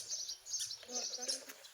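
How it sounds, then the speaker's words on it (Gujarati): Sparrows chirp in short, faint bursts at a distance, scattered high tweets over quiet outdoor background, with no clear pecking audible. "સામે જો ચકલા ચણે છે ચણ"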